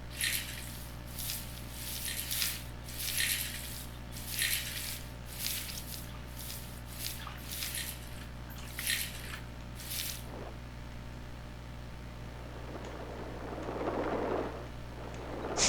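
A gold pan is shaken with water in Gold Rush: The Game, making rhythmic wet sloshing and squishing swashes, about one each second, for roughly ten seconds. A quieter, softer swirl of water follows.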